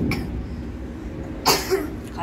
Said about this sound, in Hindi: खांसी भी आ गई